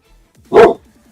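A single loud, close dog bark rings out alone, short and sharp against silence.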